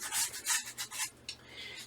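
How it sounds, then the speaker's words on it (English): Rhythmic rasping strokes of a 400-grit sanding disc rubbing against the wooden body edges of a Telecaster-style guitar, about eight quick back-and-forth passes, close and fairly quiet. "I am sanding down the sides"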